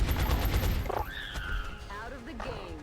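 A quick burst of rapid gunfire in the video game X-Com: Enemy Within, loud and dense for about a second, then giving way to quieter pitched sounds and voices.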